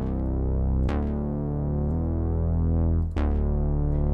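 A GarageBand moon bass synth patch holds sustained, harmonically rich low notes, with a couple of bright attack transients as new notes start; it plays alone at a steady, fairly loud level, with no talking.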